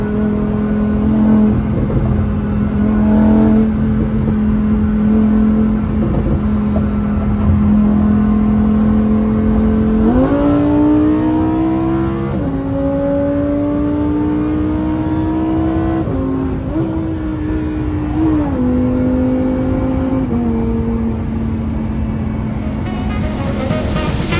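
Lamborghini Huracan EVO V10 engine revving loudly and close, its pitch climbing steadily then dropping sharply at each of several gear changes as it pulls through the gears, with continuous engine roar throughout.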